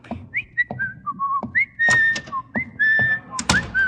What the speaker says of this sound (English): I thought you were whistling for me.